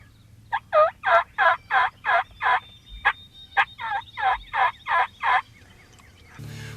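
Young male wild turkeys (jakes) gobble in a quick run of about thirteen rhythmic, loud calls in two bursts, close by and clear, with no talk over them.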